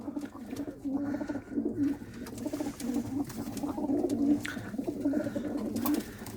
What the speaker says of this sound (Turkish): Kaçak güvercinimiz erkek bu.